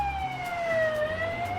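Police car siren wailing in a steady sliding tone over low traffic rumble, clear and fairly close, with no talk.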